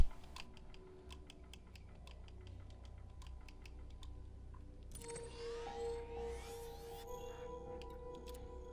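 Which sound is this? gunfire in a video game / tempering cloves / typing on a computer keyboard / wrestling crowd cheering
typing on a computer keyboard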